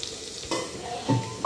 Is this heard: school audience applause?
no